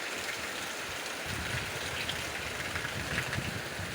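Heavy monsoon rain falling in a dense, steady hiss, with a low rumble underneath early on, continuous and fairly loud without any voices.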